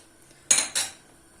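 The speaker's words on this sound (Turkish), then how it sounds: "Bulgurumuzu ekledikten sonra şöyle güzelce karıştıralım." Bulgur being stirred in a pot with water: two quick metallic scrapes of a spoon against the pot, close and fairly loud, in otherwise quiet surroundings.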